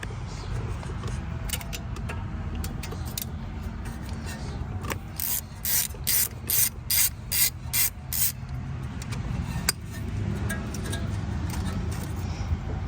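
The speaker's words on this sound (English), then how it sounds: "that is the 10mm bolt that you're going to want to take off to get the sensor out" A ratchet works a 10mm bolt off the ABS wheel speed sensor of a Toyota Corolla, a steady run of crisp rapid clicks in the middle of the clip over a low background hum.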